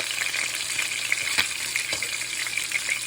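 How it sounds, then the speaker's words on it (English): Turkey wings sizzling and searing in a hot pan on the stove, a steady close crackle and hiss with occasional sharper pops, and no voices over it. "We just want to get a light little sear on it"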